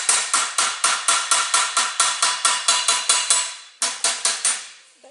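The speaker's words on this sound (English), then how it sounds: "you start out with the body hammer on this one" A body hammer shapes a metal aircraft wing rib, striking in a steady series of about twenty sharp metallic blows at close range, with a short pause before a final burst of strikes.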